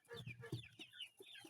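Chickens at a poultry farm cluck close by in a quick run of short, bright calls over little more than a second.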